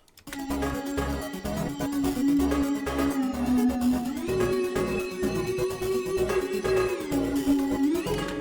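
Ominous game music built on a sustained droning tone over a pulsing low rhythm, shifting pitch partway through, loud and steady.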